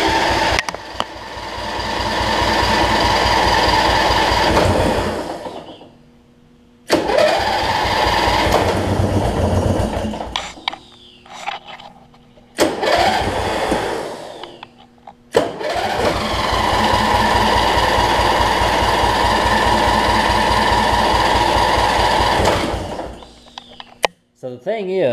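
A Weed Eater riding mower engine cranks in long labored bursts, loud and close, stopping and restarting several times as it struggles to catch and run, with short quiet gaps between attempts.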